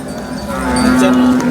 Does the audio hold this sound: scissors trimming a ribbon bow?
no